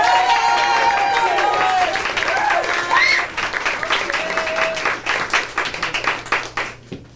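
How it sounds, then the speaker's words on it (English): A live crowd at a 1993 theater-club show at La Val's applauds a young performing troupe; steady clapping with some cheering thins into scattered, uneven claps by the end. "Please bring them on with a round of applause."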